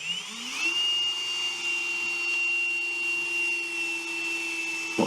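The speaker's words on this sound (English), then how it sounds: "this is my setup for wire brushing of parts" A clamped power tool spins a wire brush against metal parts: the motor winds up in the first moment, settles into a steady, fairly loud whine, and ends with a brief clatter.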